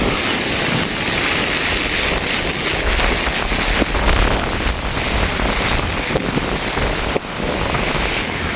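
Strong storm-season wind roars steadily over open farmland, buffeting the microphone with a dense, continuous rushing noise throughout, loud and unbroken, with no voices.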